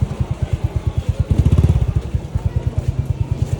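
A motorcycle engine throbs close by in a busy provincial market, its rapid pulsing exhaust rising loudly as it passes and then fading, with market chatter in the background.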